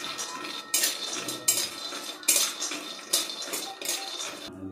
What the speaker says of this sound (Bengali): আমার এখানে বাদামটা ভাজা হয়ে গিয়েছে